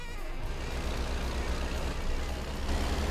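Heavy trucks in American Truck Simulator labour uphill, a low steady diesel drone filling the whole stretch at moderate level, with no voices over it.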